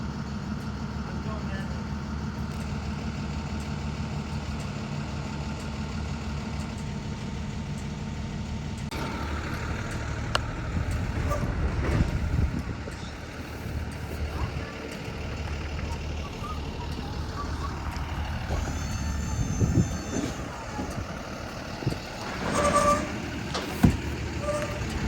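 A delivery truck pulls up and parks, its engine idling with a deep, steady rumble close by. The low drone eases partway through as other street noise and scattered clatter continue.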